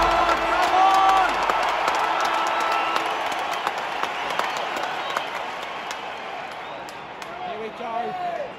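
A huge Collingwood crowd at the Anzac Day AFL match against Essendon roars and applauds as the game gets underway, a loud sustained din with scattered whoops, while a voice talks over it near the microphone.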